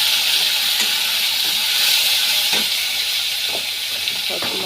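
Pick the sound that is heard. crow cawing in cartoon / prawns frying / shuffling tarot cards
prawns frying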